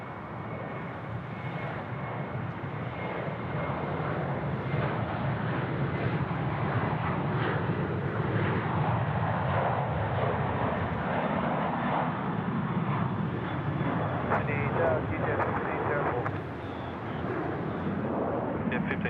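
A Delta aircraft landing on runway 34 right at Sydney Airport gives a steady, loud engine roar that holds for the whole stretch, with radio voices talking over it.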